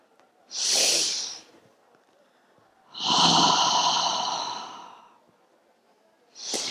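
A deep, drawn-out exhale during a guided breathing exercise: two long breathy sighs, the second lasting about two seconds, with a third starting at the end, close and clear with no talking.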